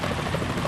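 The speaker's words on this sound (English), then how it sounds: "Is that a chopper I just heard?" A helicopter in the video game Metal Gear Solid 2 chops steadily for a brief moment, a faint, muffled rotor throb without voices.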